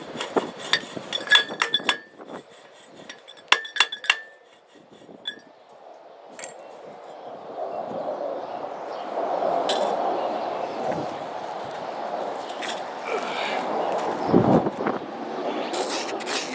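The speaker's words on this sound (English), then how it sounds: "I'm going to grind it up in the Mad Max and pan it." A Mad Max grinder grinds a small sample of freshly roasted Mojave coffee beans. A few sharp clinks and taps come first, then a continuous, close, gritty grinding whir runs to the end.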